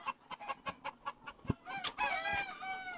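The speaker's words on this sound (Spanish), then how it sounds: "Y este es para mí uno de los mejores gallos." A rooster at a Peruvian game-fowl farm gives a run of rapid rhythmic clucks, then a louder drawn-out crowing call, close and fairly clear with no talking.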